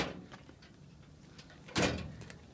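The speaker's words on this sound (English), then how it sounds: "gonna open some of these doors for you. All of them, actually." A door on a 1999 Ford F350 4x4 diesel truck opens with one solid clunk after a stretch of quiet, soft background noise.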